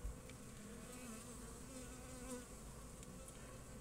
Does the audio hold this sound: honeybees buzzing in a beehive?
yes